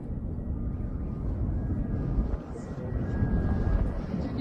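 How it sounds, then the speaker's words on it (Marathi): A B-2 bomber passes overhead as a low, continuous engine roar that swells and dips slightly, with a faint whine above the rumble. "इराणच्या आकाशामध्ये हे B-2 बॉम्बर दिसलंय"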